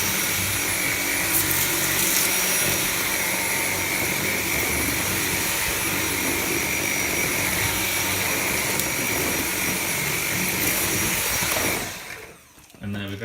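A Dyson V7 cordless vacuum cleaner runs on its max setting with a loud, steady, high-pitched whine and roar close to the microphone. It winds down abruptly near the end.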